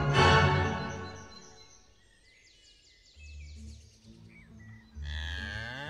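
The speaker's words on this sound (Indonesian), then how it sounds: "Gak lama kemudian datang sapi." A cow moos twice, a long low lowing call midway and another toward the end, following a burst of bright birdsong, all fairly close and clear.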